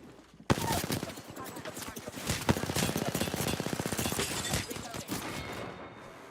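Rapid automatic gunfire from an Apex Legends firefight, loud and close, bursting in after a brief quiet start and rattling almost continuously to the end with sharp individual cracks standing out.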